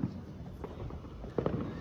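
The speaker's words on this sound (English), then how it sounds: "fireworks are just another way of blowing shit up" Fireworks going off on the Fourth of July: a few low, muffled bangs over a background rumble, with two sharper pops close together near the end.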